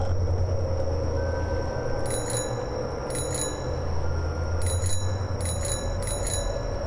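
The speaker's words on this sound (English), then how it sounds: "Hey, I got a little bell!" Small bell chimes ringing several times in short repeated bursts inside a first-person horror video game, over a steady low background hum.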